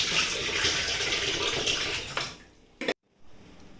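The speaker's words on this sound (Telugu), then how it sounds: "ఆ చికెన్ను 2 సార్లు కడుక్కోవాలండి" Raw chicken is rinsed in water, with steady, fairly loud running and splashing water close by that tapers off, then a brief clatter, a short silence and quieter water afterward.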